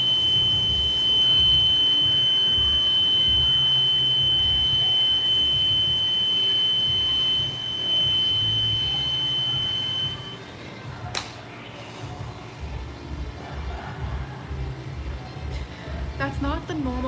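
A steady high-pitched electronic dishwasher beep, not its normal beep, drones for several seconds over a background hum, then cuts off, leaving clattering and voices talking.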